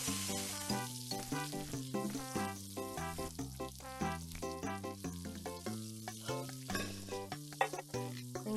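Sandwiches cook on the grill in the Papa's Cheeseria video game, a steady sizzle running under bright, looping game music with no talk.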